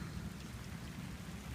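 Steady rain falls during neighborhood flooding in Gentilly, a dense, continuous hiss of drops with low rumbling underneath, no voices present.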